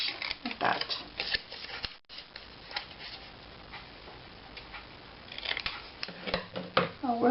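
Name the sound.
cutting paper across for a Halloween scrapbook album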